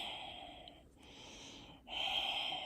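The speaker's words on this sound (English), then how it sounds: "in Ujjayi breathing, we close the lips around the sound" Ujjayi breathing drawn through closed lips and gently dragged across the throat, a soft ocean-like hiss in slow, close, quiet breaths with brief pauses between them.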